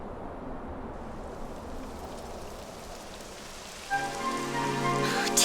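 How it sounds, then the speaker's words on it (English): Steady rain falls across a Dragon Quest XI S game scene, a dense even hiss that continues throughout, joined near the end by a layered game music swell over the patter. "It would have to go and start raining, wouldn't it?"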